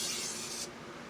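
Light knife-blade passes on a Baryonyx sharpening stone, a steady close scraping hiss that runs for about half a second and then drops away to quiet.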